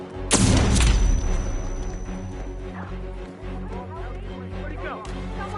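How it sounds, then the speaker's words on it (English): A loud, booming blast from the video game Hitman 3 opens, followed by a rumbling tail and scattered smaller pops, with voices talking faintly underneath. "I hear some pretty big explosions!"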